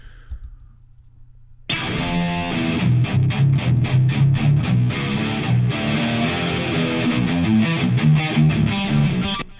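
Two copies of a heavily distorted rhythm guitar part for big metal, panned hard left and right, chug together in a dense, loud, continuous wall after a quiet opening moment.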